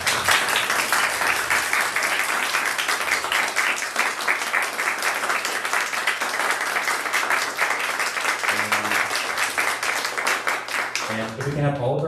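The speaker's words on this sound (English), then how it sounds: "Let's give them one more round of applause." An audience applauds after an orchestra performance at a contemporary music festival, with steady dense clapping that fills most of the clip. Voices speak near the end as the clapping fades.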